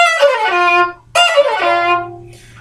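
Solo violin plays two quick descending runs of 32nd notes, F down to F, from the build-up, bright and close with a brief gap between them.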